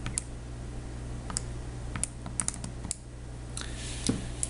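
Fingers typing on a computer keyboard to enter a calculation: a close, fairly quiet patter of irregular key clicks, with no talking.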